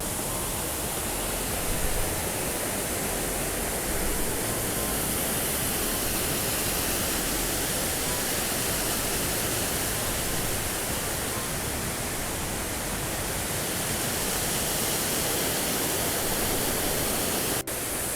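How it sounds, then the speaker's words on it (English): Waterfall heard from the top of the falls on a Tennessee trail, a loud, dense, unbroken roar of rushing water filling the entire stretch with no voices. "On top of the waterfall now."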